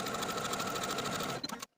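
Sewing machine top stitching a dress waistband 1/8 inch from the seam, catching the seam allowance; a steady, fast, even whirring stitch runs close and continuous, then slows with a few last stitches and stops.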